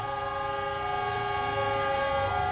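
A long, steady train horn blares continuously with a sustained chord of tones over low rumbling, loud and close, with no voices.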